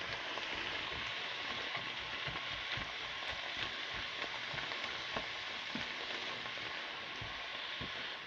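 Onions frying in a pan, a steady close sizzle with scattered small pops and crackles running unbroken, no talking.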